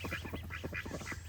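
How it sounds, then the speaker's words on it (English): Ducks and their ducklings give a steady run of short, rhythmic quacking calls close by, with no talking. "The ducklings are leading the mom and dad ducks."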